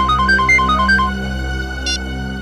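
A phone ringtone plays a short repeating electronic melody of bright beeping notes, loud and close, then cuts off, followed by a single brief higher chirp over a steady low hum.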